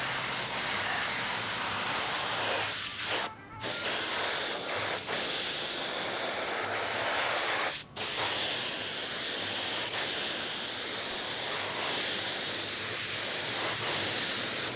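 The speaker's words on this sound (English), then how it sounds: "I'm spraying 20 pounds of pressure, decanted paint." Continuous hissing spray from a paint spray gun spraying thinned, decanted paint at 20 psi, close and loud, interrupted by two brief pauses before resuming.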